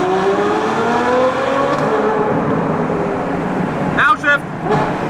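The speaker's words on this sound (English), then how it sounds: "You can still get the amazing V12 sound." A purple Lamborghini Aventador Anniversario V12 engine drones and rises in pitch inside the cabin, with a sharp blip near the end, as people talk over it.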